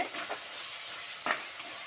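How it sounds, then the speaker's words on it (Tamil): Tomatoes with rock salt sauté in a pan as the base of a sankara fish curry. The sizzle is steady and hissing, with a couple of soft stirring scrapes. "தக்காளி நல்லா வதங்கி வந்துருக்கு"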